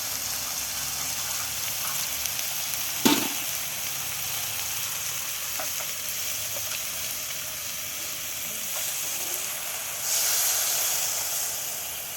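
Onions and chillies frying in a pan give a steady close hiss and sizzle throughout, with one sharp clatter early on and a brief louder surge of spitting toward the end.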